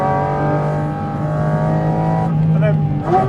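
A Porsche GT4 RS engine drones steadily at high revs, then the note breaks and drops as a sequential shifter snaps up a gear on a mountain road, loud and close from inside the cabin.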